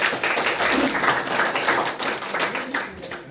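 Audience applause at a presentation: continuous, moderately loud clapping from many hands throughout, with no talk heard.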